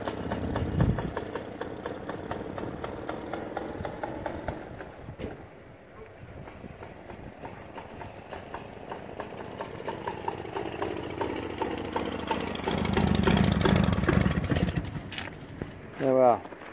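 A 1949 Excelsior Autobyk Deluxe S1 98cc motorcycle engine fires up quickly and settles into a steady, buzzing run, with a brief rev near the end, while someone talks over it.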